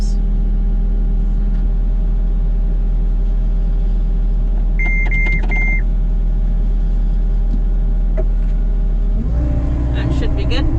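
A Haybuster Big Bite hay grinder runs with a loud, constant low mechanical drone. Brief high beeps come midway, and the engine note thickens and roughens toward the end.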